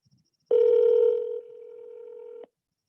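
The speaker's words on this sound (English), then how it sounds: "Calling Mark Schroeder's mobile." A phone call goes out to a mobile number with a steady electronic tone, louder at first and then softer for about two seconds before it cuts off abruptly. No voices are heard.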